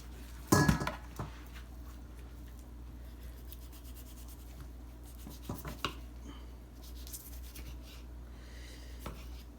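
A Dexter Sani-Safe paring knife trimming fat off a raw brisket, with a sharp clatter at the start followed by quiet, scattered scraping and slicing strokes close by.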